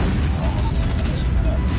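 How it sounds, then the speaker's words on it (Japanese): Cars exploding in the shooter game Call of Duty Mobile give a loud, continuous low rumble and booming roar that holds steady throughout, with a voice talking over it. "これ車とか全部爆発するんやねこれ、思ったけど"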